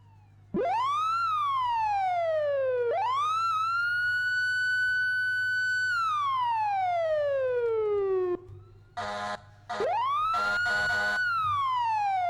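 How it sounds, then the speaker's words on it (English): A loud electronic emergency vehicle siren in a video game sweeps up and holds steady several times, then falls, followed by brief bursts of rapid yelping tone, with no talking. "So these sirens are all controlled manually."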